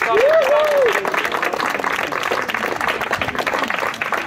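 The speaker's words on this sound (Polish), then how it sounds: "Brawa dla chłopców" At a kayak, bike and running rally event near Góra Kalwaria, a crowd applauds in dense, continuous clapping, with a voice briefly speaking at the start.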